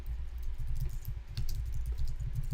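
Steady, rapid typing on a computer keyboard while code is written, the close, dense key clatter running continuously with no talk.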